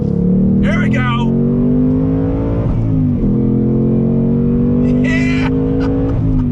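A 2021 Ford Mustang Mach 1 pulls hard on throttle around a track, its loud engine note rising steadily and dipping at shifts, close and continuous under someone talking over it.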